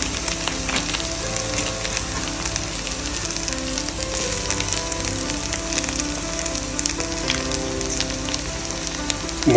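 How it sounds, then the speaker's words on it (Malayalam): Coriander powder fries with browned onions for a Kerala-style pork roast, giving a dense, continuous crackling sizzle like rain on a surface, loud and close throughout. "നമുക്കിനി അതിലോട്ട് ഒരല്പം മല്ലിപ്പൊടി ഇട്ട് കൊടുക്കാം."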